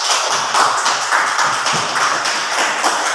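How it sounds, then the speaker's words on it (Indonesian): Applause from a classroom of pupils, a dense, steady patter of many hands clapping close by for the full length, with no talk over it. "tepuk tangan dulu untuk Ade"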